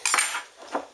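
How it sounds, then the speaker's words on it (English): Garlic cloves pressed in a metal garlic crusher, giving a few close, sharp metallic clicks and clinks in quick succession, with short gaps between. "Crush your garlic cloves"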